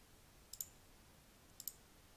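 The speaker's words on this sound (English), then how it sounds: "You're just left clicking on the little icon, left click and select the relevant color." Two quiet pairs of sharp computer mouse left clicks, about a second apart, each press followed closely by its release, against a faint steady background hiss.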